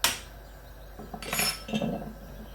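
A spoon stirs a pinch of nutmeg into moong dal khichdi in a metal pot, giving a few light clinks and scrapes against the metal, close by and fairly quiet.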